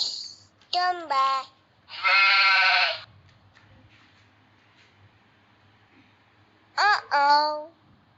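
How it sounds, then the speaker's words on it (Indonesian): Sheep bleats in a children's educational animal video game, a long, wavering cry in the middle framed by shorter bright calls, up close against a quiet background. "Bagus, domba."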